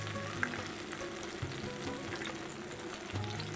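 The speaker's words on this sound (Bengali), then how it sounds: "ডালটা দিয়েও আমি একটু ভেজে নেবো" Vegetables and lentils frying together in a hot pan, a steady close sizzle running throughout with a few faint stirring scrapes, no voices.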